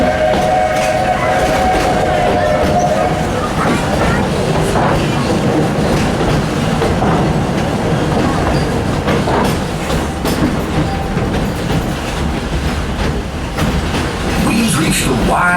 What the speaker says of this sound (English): I'll stay safe and sound right here aboard my train